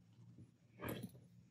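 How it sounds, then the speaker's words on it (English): A dog in the background gives a short whine or yelp, faint and somewhat distant, rising briefly over quiet room noise, with no one speaking. "Sorry about my dogs making sounds in the background."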